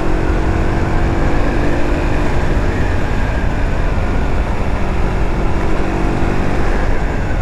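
Aprilia Tuono 125 roadster, a 2020 125 cc motorcycle, ridden at top speed, a loud continuous engine drone buried in heavy wind roar with no break.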